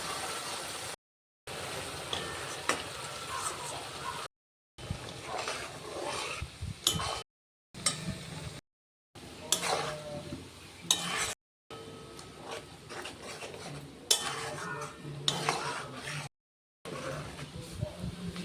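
Ghee separating from cow's-milk cream as it cooks down in a pot, with a steady bubbling sizzle and frequent scraping stir strokes, interrupted by several brief silent gaps.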